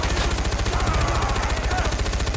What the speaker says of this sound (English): Who's shooting me in the left there?